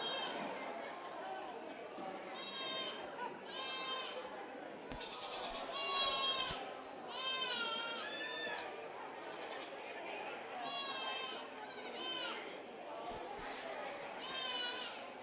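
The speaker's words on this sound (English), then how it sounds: "Look at that goat walk." Goats bleat repeatedly at an Allen County 4-H dairy goat show, loud close calls coming in bursts every second or two over a busy barn background of murmuring voices and chatter.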